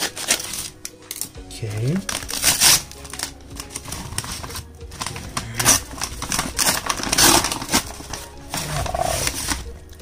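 Packaging of Sony WF-C500 earbuds being torn open, a close, loud series of rips, crinkles and rustles, with a short spoken word partway through.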